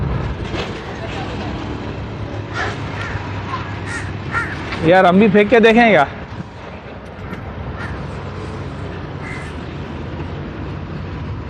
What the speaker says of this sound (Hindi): ये थोड़े से फेफड़े के लिए देखें ये इतनी सारी चीलें जमा हो गई हैं